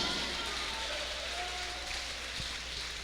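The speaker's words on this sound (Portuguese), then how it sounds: "Palmas para Jesus." Church congregation applauding during a service, a soft, continuous patter of many hands clapping at a distance, fairly even and low in level.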